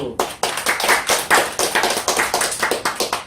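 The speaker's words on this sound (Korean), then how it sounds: "모든 것 아버님께 영광을 돌리는 박수를 올립시다." A church congregation at a Sunday worship service claps together in a steady, fairly fast rhythm of distinct loud claps that carries on for a few seconds with no talking.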